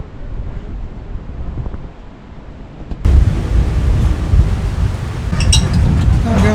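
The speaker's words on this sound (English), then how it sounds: "The wind's blowing." Wind gusting over a canal where a narrowboat sits at anchor, a steady broadband rush that swells sharply louder partway through, close to the microphone.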